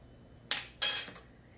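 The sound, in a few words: stirring cheese sauce into baked macaroni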